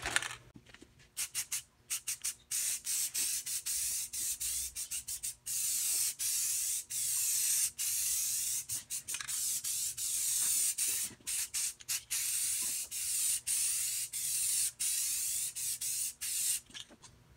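Long hissing bursts of a Rust-Oleum aerosol spray paint can, broken by short pauses, with a faint rattle between sprays.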